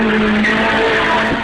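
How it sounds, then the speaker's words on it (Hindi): A car's tires skid and squeal as it swerves sharply into the right lane at speed on a highway, a loud sustained screech with a steady high whine lasting throughout. "अचानक बीच हाईवे पर गाड़ी राइट लेन में मुड़ गई।"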